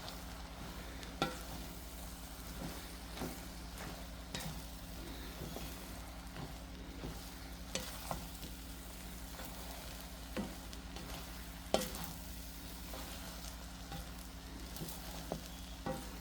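A chicken and rice dinner is stirred in a pan. A faint, continuous sizzle runs underneath, and a spoon knocks and scrapes against the pan in scattered taps.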